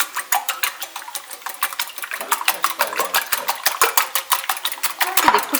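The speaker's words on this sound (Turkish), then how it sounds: "Ve yumurtaları çırpıyorum" Eggs whisked briskly with salt and milk in a bowl, a fast steady run of close, bright clicking strokes against the bowl with no voices.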